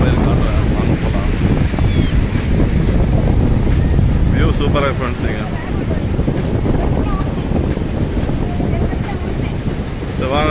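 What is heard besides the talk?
strong wind on a beach with wind noise on the microphone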